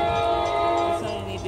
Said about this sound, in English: No, the train's in front of you.